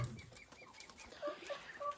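Domestic ducks in a farmyard pen flap their wings and give short calls, faint and scattered, several birds close by with rustling between the calls.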